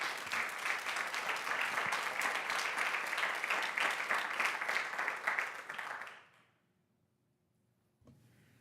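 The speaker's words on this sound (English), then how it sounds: "give yourself another round of applause" A school board meeting audience applauds, a sustained crowd clapping that fills the room for about six seconds before fading abruptly into near silence, followed by a faint room noise.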